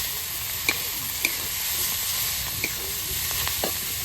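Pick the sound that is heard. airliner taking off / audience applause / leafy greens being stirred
leafy greens being stirred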